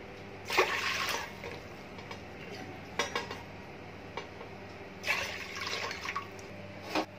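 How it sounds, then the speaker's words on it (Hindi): Water poured from a glass into a large steel pot, three separate pours with watery splashing and clinking, each lasting about a second with quiet gaps between, close and fairly soft. "स्टील की एक बड़ी भगोनी लेंगे हम, उसमें 3 गिलास करीब पानी ऐड कर लेंगे।"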